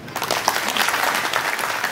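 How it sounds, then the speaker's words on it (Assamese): An audience claps together in a dense, even burst of applause at a union training and shifting program, loud and sustained with no voices on top. "তেখেতলোকৰ কাৰণে আমি এটা হাত চাপৰি দিব লাগে"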